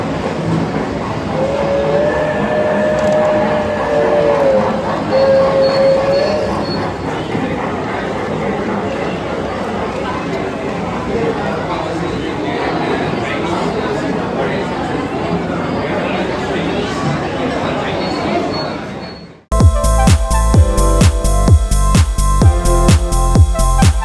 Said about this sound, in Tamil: ட்ரெயின் சவுண்ட் வரப்போகுது ட்ரெயின் வரப்போகுது பாருங்கள்